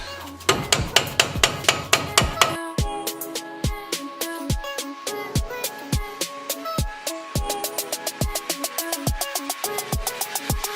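Repeated loud hammer blows knocking a part loose on a Ford Taurus, first a fast flurry of ringing metal strikes, then steady heavy whacks in a regular rhythm, close by with no talking.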